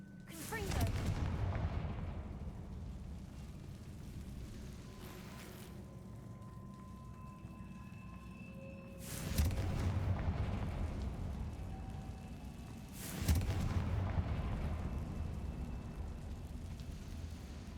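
Confringo fire-spell blasts from the video game Hogwarts Legacy boom three times, each a deep burst with a rumbling tail, spaced several seconds apart.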